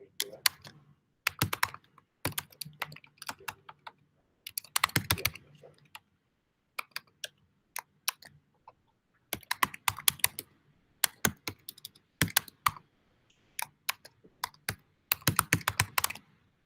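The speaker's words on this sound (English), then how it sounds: "Man clicking at keyboard." A man types on a computer keyboard, the clicking keys coming close and crisp in irregular bursts with short pauses between them.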